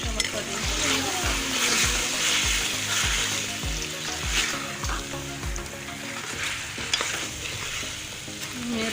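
Green chilies and whole coriander seeds sizzle and fry in a pan for a chicken liver and potato dish, with repeated stirring scrapes over a continuous hiss.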